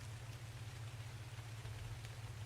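Steady rain falls in the ARK: The Island video game, a continuous even hiss of drops with a low droning hum beneath, no voices.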